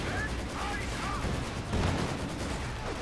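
Gunfire from a video game battle in which G43 rifles fire on conscripts: a dense crackle of shots and volleys rolls steadily under a commentator's voice.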